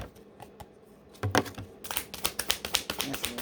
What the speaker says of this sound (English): Let's give it one more shuffle to get them back in here.